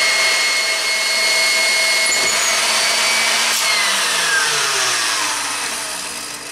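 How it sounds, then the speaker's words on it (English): An electric kitchen mixer whirs loudly, its whine rising in pitch as it speeds up from a slow start, then tapering slightly toward the end. "Start out slow and then doesn't take long with this mixer."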